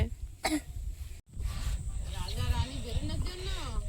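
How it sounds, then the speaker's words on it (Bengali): A child coughs once, a short sharp burst, close by during strong wind. Adults talk in the background and a faint high whine hangs over the scene. "ওই কাশছে"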